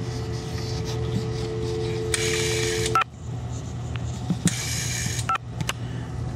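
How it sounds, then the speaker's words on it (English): A vintage phone fitted with a pulse-to-tone converter is dialed. Two short bright tone bursts are heard, each ending with a click, over a low steady hum. "Alright, I'm gonna dial a number."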